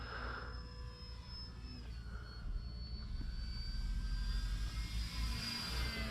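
An OMP Hobby Bighorn 49 RC airplane cruising at half throttle on a hot day, its electric motor giving a steady whine that drifts in pitch as it passes, faint and distant, growing slightly louder toward the end.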